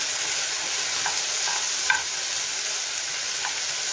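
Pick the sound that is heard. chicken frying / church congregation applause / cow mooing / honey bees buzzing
chicken frying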